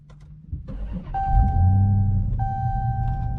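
A car engine cranks and fires, then settles into a loud idle close by, with a steady warning chime sounding over it.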